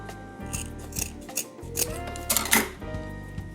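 Scissors snipping beading string for a garland: several short, crisp cuts and soft rustles close by, irregularly spaced over a few seconds.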